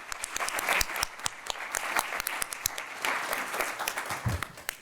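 Panel event audience applauding themselves, a moderate crowd's clapping with individual claps standing out sharply, rising and falling slightly over a few seconds.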